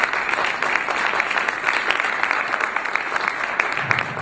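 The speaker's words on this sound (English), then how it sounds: "we need to have a big round of applause, of course, to Paul Kotrochis and the tremendous effort" An audience at the Hermes Expo claps in a steady, sustained wash of applause. It is fairly loud and continuous, with no voices over it.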